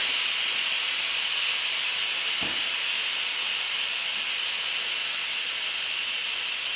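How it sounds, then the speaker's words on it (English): Steam hisses steadily from the release valve of an Instant Pot pressure cooker in a home kitchen, a loud continuous rush that holds the whole time, with one brief low thump partway through. "Actually, I need to release the steam first."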